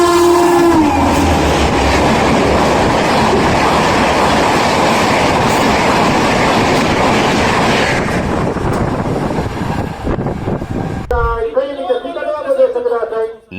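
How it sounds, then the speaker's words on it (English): The Gatiman Express in India races past at nearly 96 mph, a loud, close, sustained roar of rushing wheels and wind with a horn blast early on, before the noise drops away and a voice speaks. "At nearly 96 miles per hour, the Gatiman Express in India covers a football field in under 2 seconds."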